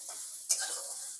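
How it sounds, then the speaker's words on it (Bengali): Broccoli and green peas fry in butter in a wok, with a soft, steady sizzle and one brief clink of stirring partway through, quiet and without talk. "বাটারটা দেওয়ার পর আরো কিছুক্ষণ এটা ভেজে নেব।"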